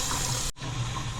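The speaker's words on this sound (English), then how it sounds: "So now we'll have the water on the valves there inside the home so that the water can flush out the pipes" Water rushes steadily through household pipes after the valves are reopened, a continuous gushing that breaks off briefly in the middle and then resumes. It is moderately loud and there is no talk.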